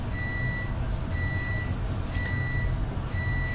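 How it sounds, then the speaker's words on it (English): A pager beeper goes off indoors, sounding a steady, repeated series of short electronic tones in evenly spaced pulses, moderately loud over a low background hum. "That's my beeper."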